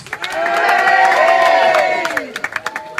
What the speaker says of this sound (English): The crowd now go wild and crazy